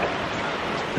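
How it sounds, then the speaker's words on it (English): Wind gusts along a city street, a steady broad rushing roar buffeting close to the microphone for a brief moment, with no clear talk. "Oh, it's so windy."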